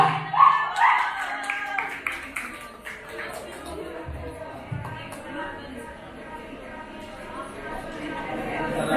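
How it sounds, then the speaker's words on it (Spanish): Applause from an audience at a Día del músico stage event honoring a band, a dense patter of clapping that swells at the start and then settles to a steady level, with chatter and voices mixed in. "Fuerte el aplauso, señores."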